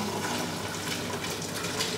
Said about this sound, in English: And then I'm going to carefully pour.